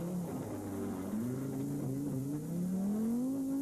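An Audi Quattro Sport rally car driven by Walter Röhrl accelerates hard on a rally stage, its engine note climbing through gears in a steady, close roar.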